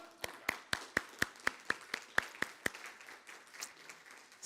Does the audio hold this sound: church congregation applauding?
yes